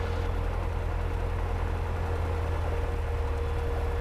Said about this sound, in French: c'est bizarre au niveau du bruit du moteur, je me rappelle pas de ce bruit là.